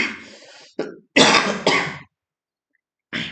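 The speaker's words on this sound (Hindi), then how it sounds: "सॉरी खांसी आ रही" A few harsh coughs and throat-clearing bursts come in quick succession, close and loud, followed by silence and another cough starting at the end.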